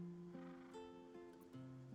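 Cat in the Baldur's Gate 3 video game, producing a few short, sustained meow-like tones with shifting pitch, close and quiet over a soft background, with no talking.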